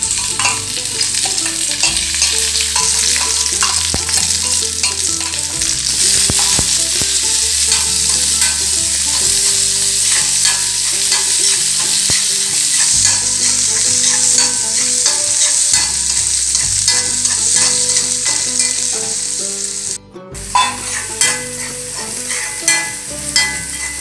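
Sliced onions fry in a pan for Kerala-style ghee rice, a steady close sizzle with a spoon repeatedly stirring and scraping, continuous for over twenty seconds, then a brief pause and a few final stirs.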